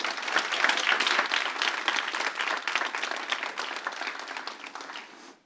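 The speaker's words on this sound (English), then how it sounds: "Give a round of applause for Katharina." Sustained audience applause at a conference talk on the future of information, dense and steady clapping from a crowd lasting several seconds before tapering off at the end.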